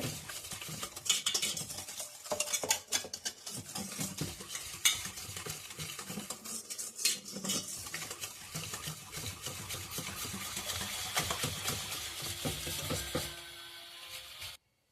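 A puffed rice sweet mixture is stirred in a pan, making quiet repeated scraping and crunchy rustling strokes that run steadily and then stop abruptly at the end.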